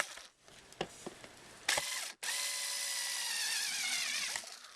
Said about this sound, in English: And then I always put 4 of these 1/2-inch screws in.